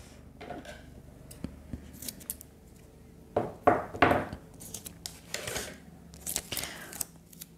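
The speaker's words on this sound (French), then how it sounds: "Et je vais remettre le scotch par ici." Strips of tape are pulled off a roll with short crackling rips, a couple of louder tears in the middle, then small taps and rustles close by.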